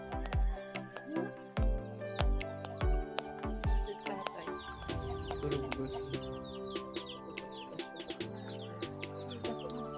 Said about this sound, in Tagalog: Nandiyan ang manok sa tatay.